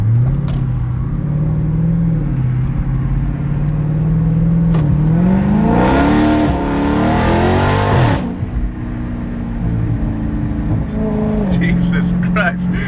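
Deep, loud exhaust rumble from a 2018 Dodge Charger Daytona 392 with a mid-muffler delete, driving on the street, swelling into a hard rev mid-clip and then settling, with people talking over it inside the car.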